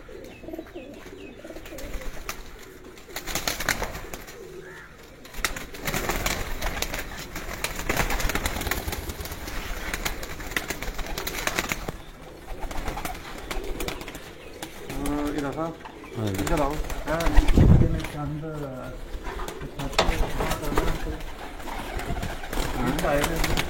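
Pigeons coo repeatedly on a rooftop amid steady background noise and people talking, with occasional wing flaps.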